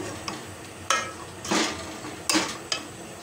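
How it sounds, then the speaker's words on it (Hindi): Beef korma with korma masala frying in a pot as a spoon stirs it, giving a few scattered bright scrapes and clatters over a low, steady background. "कोरमा मसाला है, ये शामिल करते हैं। और इसको भून लें।"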